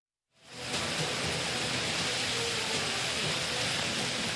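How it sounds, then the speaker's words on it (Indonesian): Heavy rain and strong wind in Banten, Indonesia, fade in quickly and then roar as a dense, steady downpour, loud and continuous with no pauses. "Beginilah suasana terjadinya angin kencang dan hujan deras yang membuat sejumlah warga sekitar panik."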